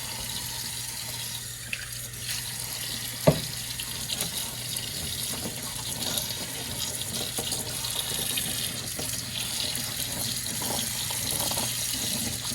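Almonds rinsed under a running kitchen tap, with a steady close rush of water and a single brief clunk near the start, no voices.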